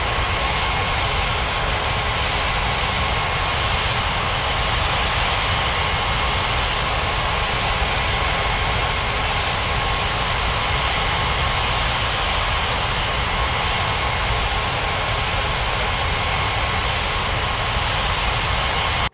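Steady, loud roar of an Etihad airliner's jet engines on approach to Ngurah Rai Bali International Airport in an air traffic control game, a constant broadband drone with no break.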